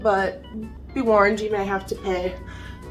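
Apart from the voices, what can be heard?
No everyday noise stands out behind the speech.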